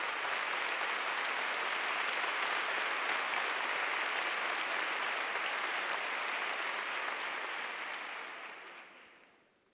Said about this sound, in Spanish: escuchen estos aplausos de ese día